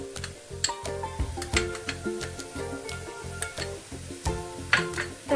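Ginger garlic paste sizzles in a pan of frying onions, a close crackling hiss broken by frequent rhythmic clinks and scrapes of a spoon against the pan, with no talking.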